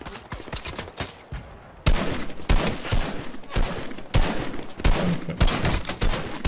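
Enemy bots fire guns in a video game, with sharp, loud bursts of rapid shots coming in several volleys separated by brief quieter gaps.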